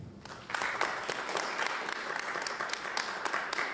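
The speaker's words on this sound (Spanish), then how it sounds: "quiero pedirles por favor un aplauso para Cristian." Audience applause at an evening lecture seminar in a museum, a steady patter of many hands clapping from the start, moderately close and lasting through the moment.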